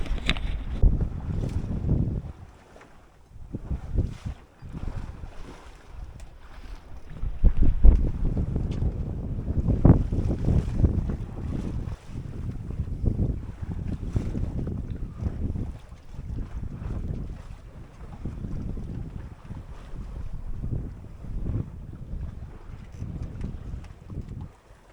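Gusty wind buffets a small sailboat out on a channel, with loud, uneven rumbling pushes into the microphone, brief lulls and the wash of water underneath.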